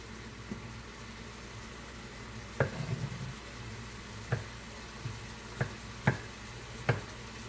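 Meat browns in a frying pan with a soft, continuous sizzle, broken every second or so by sharp clicks and scrapes as it is stirred.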